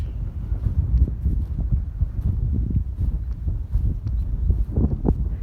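Steady wind buffets the microphone outdoors, a continuous low rumble with gusty swells and no talking.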